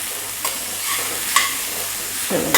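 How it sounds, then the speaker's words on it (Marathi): Chopped onions sautéed in a pan for kalwa masala give a continuous hiss and sizzle. Intermittent scraping stirs and a clink or two cut through, all close up with no talk. "सर्व कांदो मी टाकून घेतलं आणि हे असं परतायचं"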